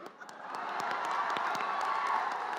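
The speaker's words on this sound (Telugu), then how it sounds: "చప్పట్లు కొట్టు" A large crowd at a stage event claps and cheers, a steady wash of applause heard from some distance, fairly faint.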